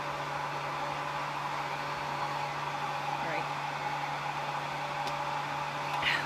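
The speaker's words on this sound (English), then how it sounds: "I'm sitting here with my blow dryer blowing in my face." Blow dryer running steadily at close range indoors, a constant airy whoosh with a low tonal hum throughout and no talking.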